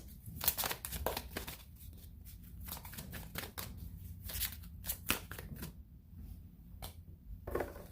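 Tarot cards are handled and drawn from a deck during a reading, giving soft papery riffles, slides and flicks in irregular bursts, fairly close and quiet, with no talking.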